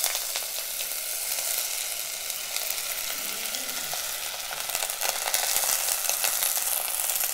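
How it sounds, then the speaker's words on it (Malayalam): Chopped carrot, elephant foot yam, raw plantain and brinjal for avial sizzle steadily in hot oil in a pan, a dense continuous crackle with occasional stirring, alone without speech. "എണ്ണയിലാണിത് ആദ്യം വറുത്തെടുക്കുന്നത്"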